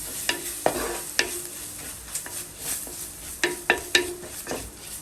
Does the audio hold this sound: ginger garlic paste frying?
yes